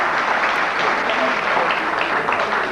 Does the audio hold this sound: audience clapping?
yes